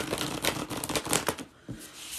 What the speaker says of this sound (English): Let's give this thing a shuffle.